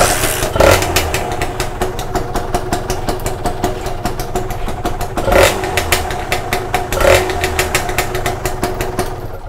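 Kawasaki motorcycle with a ported block, its engine running loud and close with a steady idle and three sharp revs spaced across the run.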